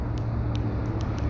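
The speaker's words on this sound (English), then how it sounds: "I'm at the front now, so you can hear the traffic like crazy, eh?" Road traffic near the front of a cemetery forms a steady low rumble of passing vehicles, with a few faint higher ticks above it.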